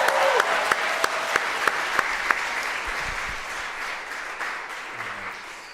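A concert crowd gives a big round of applause for student associations, with steady clapping, a few sharp nearby claps standing out early on, and the applause slowly tapering off.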